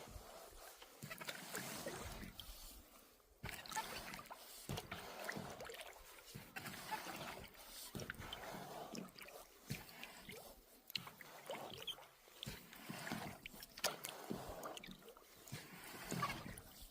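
A canoe or kayak paddled on a loch, with steady rhythmic strokes and water swishing and trickling around the hull, close and fairly quiet throughout with no talk.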